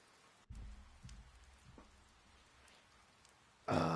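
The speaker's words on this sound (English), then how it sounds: "All this ambience of rain" Rain ambience from the video game Persona 4: a soft, steady hiss of rainfall with a few dull low thumps, ending in a sudden louder burst of broadband rain noise.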